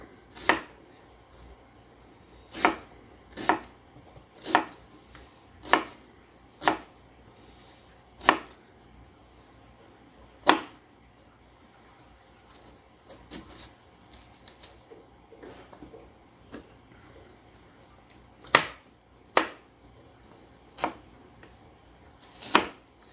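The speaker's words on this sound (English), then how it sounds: "I'm not the pro at cutting up vegetables." A knife chops vegetables into chunks on a board, sharp single thuds spaced irregularly with short pauses between bursts, close and dry with no talking.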